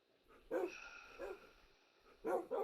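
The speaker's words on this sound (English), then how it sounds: "I can hear the dogs barking" Dogs in an old video game survival world bark in a few short, separate bursts, with soft yips in between, faint and set against a quiet background.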